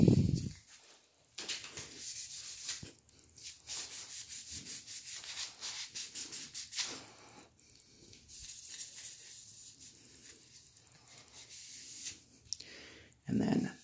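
A lightsaber blade is hand-sanded with sandpaper, giving repeated scratchy rubbing strokes in bursts of varying length with brief pauses, close and moderately loud, plus a soft thump at the start and end.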